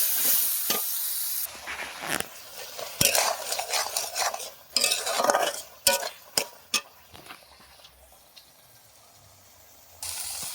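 Prawns tossed into hot oil with fried spices give a patchy sizzle beneath clattering metal stirring and scraping against the pan, the bursts coming irregularly before dying away near the end.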